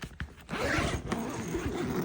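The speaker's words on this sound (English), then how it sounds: "One thing I'm really liking is these zippers. They're actually working really well." Zipper on a Kemimoto soft upper door enclosure for a Polaris RZR-style Zforce 950 Sport 4 side-by-side, drawn in a long, smooth continuous rasp after a couple of short tugs, close up with no talk.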